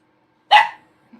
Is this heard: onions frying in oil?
no